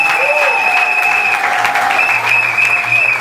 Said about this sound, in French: Applaudissez très très fort pour la famille